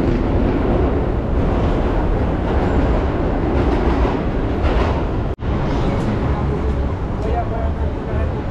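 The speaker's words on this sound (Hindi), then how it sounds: "इसके अंदर जो आवाज़ आ रही है ना भाई, ये मेट्रो ट्रेन जा रही है अंदर," A steady, loud rumble of a New York subway train rolling past underground, with a brief dropout midway and faint voices in the background.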